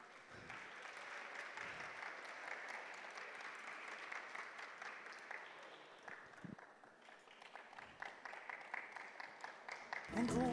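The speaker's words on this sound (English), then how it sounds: "Applaudissons pour Congo Brazzaville." A hall audience gives sustained applause for the Congo Brazzaville team at a Pan African Mathematics Olympiad ceremony, with dense steady clapping that thins into scattered claps near the end.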